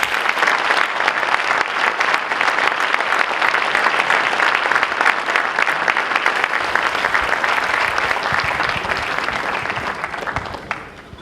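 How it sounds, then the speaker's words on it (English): A convocation audience in a crowded hall applauds scholarship donors, a long, dense spell of clapping that holds steady before thinning and tapering off near the end. "good round of applause for these scholarship donors"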